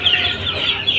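Young chicks kept for rearing cheep in a dense, continuous chorus of high peeps, loud and close, filling the whole brief moment without any voice.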